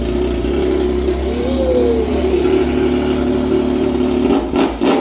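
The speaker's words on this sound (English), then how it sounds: "I just thought for fun we'd fire it up with no muffler so you can see how loud this thing is" A 2025 Yamaha XSR900 engine runs with no muffler, a loud, raw, steady roar close by with a brief rising rev, and a few words spoken near the end.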